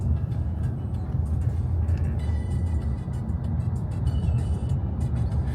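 Steady low engine rumble and road noise from inside a moving car in Almaty, constant and moderately loud, with faint higher clicks and no talking.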